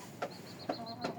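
Five-month-old chickens cluck softly at close range, three short calls spaced out over a faint steady background tone, with no talk.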